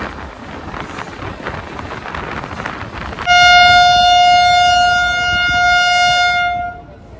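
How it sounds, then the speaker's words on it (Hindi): Train horn blasting loud and sustained at Jaswant Nagar station as a train overtakes the Seemanchal Express, following a stretch of windy rumbling rail noise; the horn holds for about three seconds before cutting off. "तो भाई जसवंत नगर स्टेशन पे कोई ट्रेन ओवरटेक कर रही है अपनी सीमांचल एक्सप्रेस को।"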